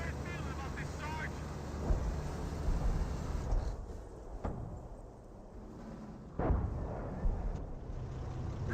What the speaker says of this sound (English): You have Humo barraging, looks like over here.